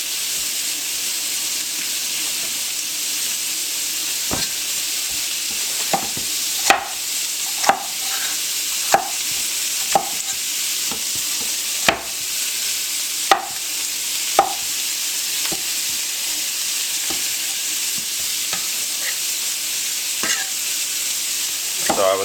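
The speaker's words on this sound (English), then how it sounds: "we got the sausage frying" Steady sizzling and crackling of Italian sausage frying in a pan, with occasional sharp pops and a spatula scraping now and then.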